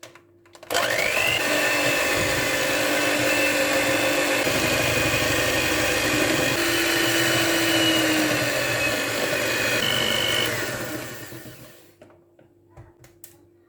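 Electric mixer whipping eggs and sugar into a creamy batter for small chocolate cakes, a steady loud motor whine running for about eleven seconds before winding down and stopping, with no talking.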